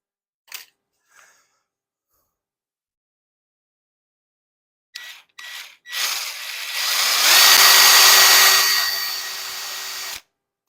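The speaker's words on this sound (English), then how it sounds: "This has got to be the worst 1/8" drill bit in all of the world." A power drill with a 1/8 inch bit whines up to speed and bores steadily for several seconds, preceded by a few short clicks and brief bursts, then stops abruptly.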